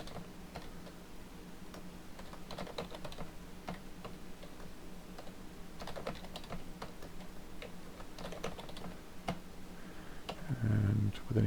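A password typed on a computer keyboard, with rapid bursts of light clicky keystrokes separated by short pauses, close and fairly quiet, and a brief low voice near the end.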